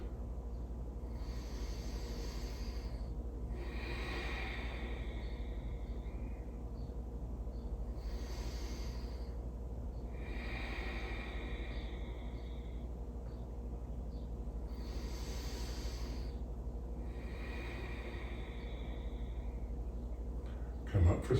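Slow, deep breathing during a yoga warrior pose, with regular long breaths rising and falling in a steady cycle over a low background hum, close and quiet.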